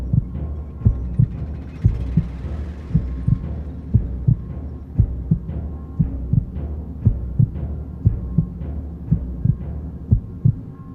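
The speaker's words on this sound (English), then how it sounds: "what you just heard was the Sound of the Void, some timpanis, and a heartbeat" Music production layering a steady heartbeat with booming timpani hits over a low synth drone; regular thumping pulses repeat throughout, loud and close, with no voices.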